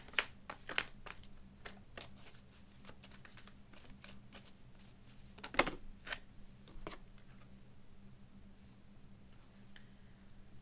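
Tarot cards shuffled close up, a run of crisp riffling snaps and soft card slides in uneven bursts, one louder flurry midway, then quieter handling fading out, no talking.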